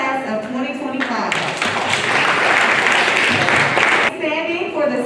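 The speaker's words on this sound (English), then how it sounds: "Faculty and staff, please give a round of applause to our new and official class of 2025." Faculty and staff at a grade induction ceremony applaud the new class of 2025, steady many-handed clapping building after a moment and holding strong before cutting off, with voices around it at the edges.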